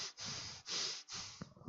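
Close, quiet breathing through mouth and nose right at a microphone: three soft, airy breaths in a slow rhythm, then a brief sniff-like snort, with no other sound.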